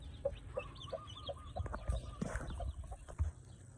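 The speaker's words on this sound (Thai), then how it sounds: "นี่นะครับ แม่ไก่ เห็นลูกไก่ที่อยู่ข้างหลังแม่ไก่ไหม" A mother hen with her chicks clucks softly in short, repeated notes amid faint barnyard rustling and low background noise.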